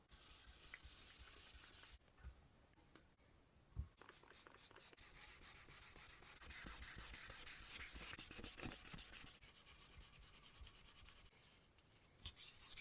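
Sandpaper rubs back and forth across a kit guitar body in short, close strokes, a soft rasping scrub that comes in bursts separated by brief pauses, fairly quiet overall.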